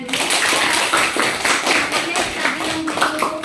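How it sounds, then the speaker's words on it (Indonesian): Applause from a group at an Indonesian teachers' coaching session, dense continuous clapping lasting throughout at close range, with a voice faintly audible beneath it. "tepuk tangan untuk kita semuanya dulu"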